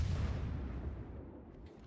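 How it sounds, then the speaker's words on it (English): Naval artillery shells arriving in World of Warships, a heavy low rumbling boom that fades away over about two seconds, loud and without speech. "Incoming fire."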